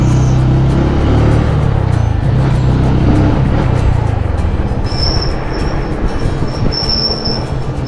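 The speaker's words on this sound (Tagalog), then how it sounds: "Tumutunog na yung preno ko" A vehicle's worn brakes squeal in thin, high bursts over a loud, steady road rumble, close and continuous.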